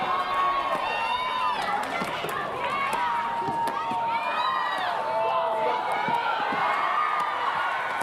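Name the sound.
crowd cheering at a women's doubles pickleball match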